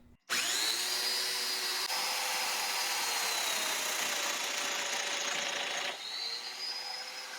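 Domino joiner cutting a mortise in a wooden workpiece, a loud motor spinning up then a sustained cutting whine for several seconds before easing off to a lighter idle, close with no talking.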